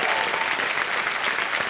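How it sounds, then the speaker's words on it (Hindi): A KBC studio audience claps for a contestant who has taken first place on the leaderboard, dense sustained applause filling the room at full strength throughout. "तालियां बज जाए इनके लिए।"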